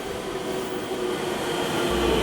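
Inside a long local train on the JR Biwako Line on a Saturday afternoon, a steady rumble of wheels and carriage noise runs throughout with a faint tonal hum, and no voices are heard.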